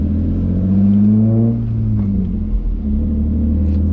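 A BMW E36 engine with a rough idle runs steadily close by, its low, uneven rumble holding throughout with a slight wobble in pitch and no speech over it.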